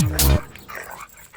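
A dog gives one loud, close bark followed by softer whimpering and background murmur.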